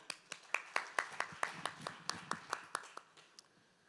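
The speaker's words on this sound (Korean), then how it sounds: "큰 박수로 맞아주시기 바랍니다" A faint, evenly paced run of about fifteen distinct hand claps rings out in a conference hall to welcome a presenter at a green energy summit, tapering off at the end.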